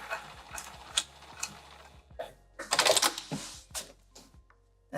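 A sewing machine slowly stitches across a zipper end on a velveteen boxy pouch, giving quiet, irregular mechanical clicks and ticks with one brief louder whir in the middle, close and alone.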